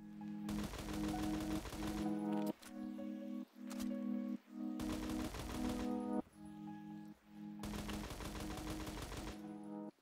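SKS rifle fire in Roblox Phantom Forces, three bursts of rapid close shots, each lasting about two seconds, separated by short pauses with music or game tones underneath.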